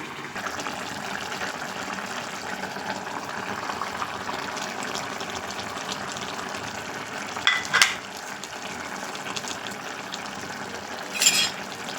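Fish curry with curry leaves simmers and bubbles steadily in a pot, a continuous soft sizzling wash with a couple of brief louder clinks or splashes near the middle and end; no one speaks.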